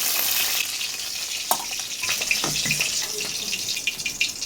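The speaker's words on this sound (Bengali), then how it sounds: "লাল লাল করে ভাজা হয়ে গেছে ভাজা হয়ে গেছে ওটা তুলে নিচ্ছি" Chicken pieces frying in hot oil as they are lifted out, a steady close sizzle with scattered clinks and scrapes of a utensil and a brief bump near the middle, no voices.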